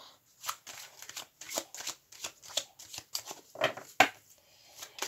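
Oracle cards are shuffled for a card reading, with a rhythmic series of quick riffling bursts, close and clear, about a dozen in five seconds with no talk.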